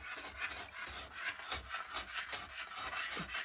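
A soft pumice stone scrubs stains inside a porcelain toilet bowl, making quiet, gritty rasping strokes in a steady back-and-forth rhythm of about two per second, with no talking.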